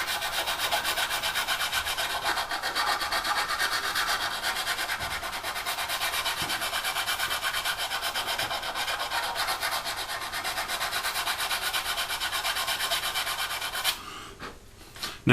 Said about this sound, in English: start sanding off with quite a fine sandpaper